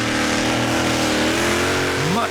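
A heavily modified pulling tractor powered by a Keith Black 518 engine at a Danish championship tractor pull, roaring loud and sustained close by with a rising pitch toward the end, a commentator's voice faintly beneath.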